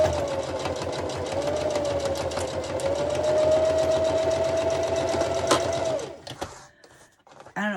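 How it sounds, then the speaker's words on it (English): Sewing machine stitching and back stitching a quarter-inch seam on a fabric ID holder, a loud, close, steady rapid hum of the needle running for about six seconds, then stopping into a few soft handling clicks. "So we're going to back stitch."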